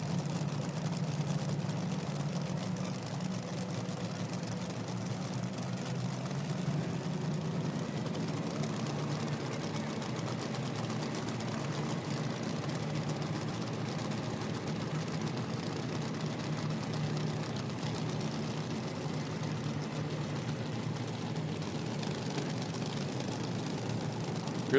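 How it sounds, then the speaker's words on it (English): A nitro drag racing car fires up at an IHRA Outlaw Nitro meet at Nashville, its steady low-pitched engine rumble sounding loud and continuous throughout, with no talking. "Hear that Nitro car fire up."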